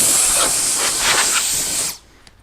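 A compact Wolfbox air duster blasts a steady, loud hissing stream of air over tools for about two seconds, then cuts off abruptly to near silence.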